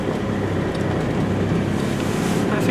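A steady, continuous Land Rover engine drone with a low rumble at steady throttle around 1500 revs, holding an even pitch and loudness throughout, close and fairly loud.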